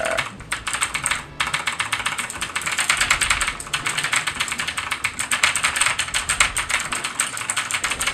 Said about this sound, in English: I am spamming every goddamn key on my keyboard now to see if anything happens